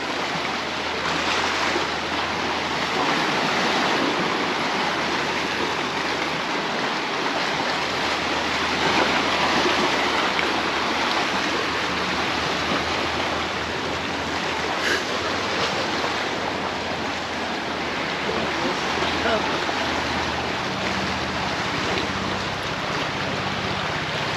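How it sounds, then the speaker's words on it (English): Small waves on a choppy sea at Camp de Mar, Mallorca, splash and wash against rocks in a constant rushing roar, close and fairly loud, with no voices. "It's a little bit choppy, so some small waves making splashes against the rocks."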